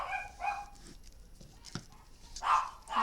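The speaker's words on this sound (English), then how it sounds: "next door's doggy's having a say" A neighbour's dog barks nearby, a few separate woofs spread across the moment, moderately loud with quiet room noise between them, and no one speaks over them.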